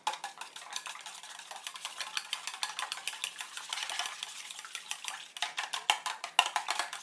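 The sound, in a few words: whisking eggs with chopsticks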